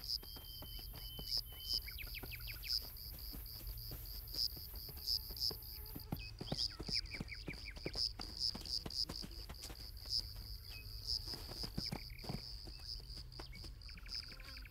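Insects buzz and chirp steadily in the heat of a marshland riverbank, with crickets and flies forming a dense, continuous drone punctuated by repeated sharp clicks and chirps close by.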